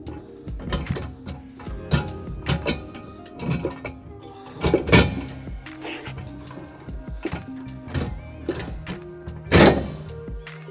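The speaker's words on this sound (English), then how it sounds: "So now we're going to place our fifth wheel back into the puck holes." A fifth wheel hitch is set down into the puck holes of a 2020 GMC Sierra 3500 truck bed, giving a series of irregular metallic thunks and clanks at close range, several louder impacts spaced over the passage.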